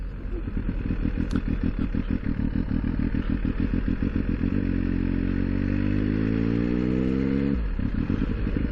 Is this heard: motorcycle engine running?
yes